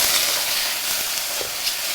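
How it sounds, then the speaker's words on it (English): Cooked lo mein noodles and vegetables hitting a hot pan, a loud continuous sizzle and hiss with faint stirring scrapes, no talking. "Woo, sizzle."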